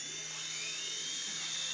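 A toy remote-control helicopter's rotor whines steadily, a high, thin buzzing hum held close and unbroken for the short moment, with no talking.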